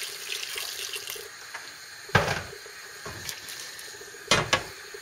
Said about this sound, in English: Add a little bit more water to cover them.